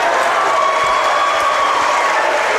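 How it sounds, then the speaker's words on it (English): Crowd at a high school boys basketball regional semifinal gives a loud, sustained ovation, with dense applause and cheering that holds steady throughout and no break in the noise. "he gets a rousing ovation"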